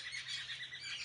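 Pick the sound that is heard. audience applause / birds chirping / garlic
birds chirping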